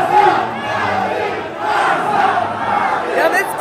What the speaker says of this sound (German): Das Publikum schreit Barca auf Madrid abwechselnd